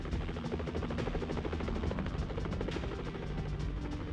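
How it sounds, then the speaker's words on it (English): A helicopter in the Nintendo 64 game Mission Impossible whirs with a steady, fast rotor chop, loud and continuous for the whole stretch. "there's the helicopter"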